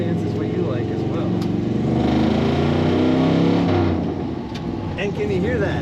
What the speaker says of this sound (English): This truck has a little bit of a roar to it that sounds great.